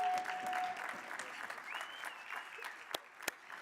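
An audience applauds the winners at an annual meeting, with steady clapping of moderate loudness that fades toward the end, broken by a couple of sharp claps.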